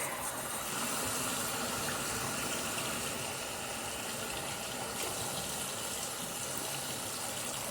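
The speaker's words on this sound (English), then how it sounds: "All right, water." Water runs steadily from a tap while someone rinses ink and gooey residue off their arm at home, a continuous close gushing flow with no talk.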